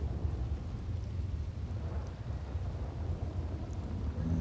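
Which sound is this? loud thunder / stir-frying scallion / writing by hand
loud thunder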